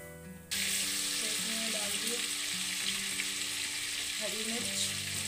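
Butter and a little oil sizzle steadily in a hot pan, a loud continuous frying hiss that starts abruptly and holds throughout, with faint clinks of stirring underneath.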